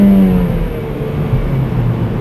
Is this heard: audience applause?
no